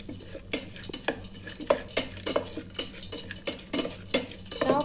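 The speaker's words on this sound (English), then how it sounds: "now mix this properly" Okra fry with cumin powder is stirred inside an electric kettle, irregular close clinks and scrapes of a utensil against metal over a faint background, with no voices.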